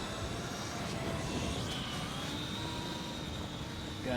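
An FMS K5 Blazer FCX10 RC crawler grinds up a steep, soft sand dune in low gear and four-wheel drive, giving a continuous, even motor whir with a thin tonal whine under outdoor rushing noise, with no voices.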